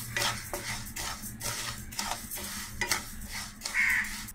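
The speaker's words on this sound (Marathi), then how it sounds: "आता आपण तांदूळ जरा भाजून घेऊया." Rice dry-roasts in a pan over medium heat while being stirred, producing a continuous rustling scrape of grains and utensil against metal with occasional louder strokes, close and without talk.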